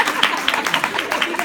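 An audience claps during a talk, a brief burst of mixed hands clapping that is loud and close, with voices talking over it.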